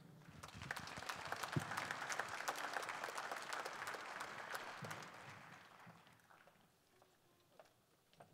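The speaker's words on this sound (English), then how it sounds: "Let's give them a rousing round of applause" A round of applause from a concert audience at a music performance, steady dense clapping that swells and holds for several seconds, then thins out and fades toward the end.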